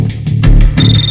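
A telephone rings loudly and close by, a short burst of bright electronic tone cutting in over a low background rumble, in a tense crime drama scene.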